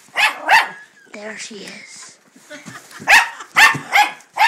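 A dog barks in sharp bursts, a pair near the start and a rapid run of four or five toward the end, with whimpering sounds between them while a person speaks briefly.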